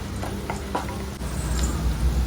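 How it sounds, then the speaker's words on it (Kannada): Chopped onions frying in a pan until golden brown, a steady close sizzle with a few soft stirring scrapes throughout, no voices. "ಸಣ್ಣದಾಗಿ ಎತ್ಕೊಂಡಿರೋ ಆನಿಯನ್ ಚೆನ್ನಾಗಿ ಗೋಲ್ಡನ್ ಬ್ರೌನ್ ಆಗೋವರೆಗೂ ಚೆನ್ನಾಗಿ ಇದನ್ನು ಫ್ರೈ ಮಾಡ್ಕೊಬೇಕು"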